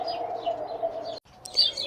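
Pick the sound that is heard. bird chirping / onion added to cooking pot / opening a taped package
bird chirping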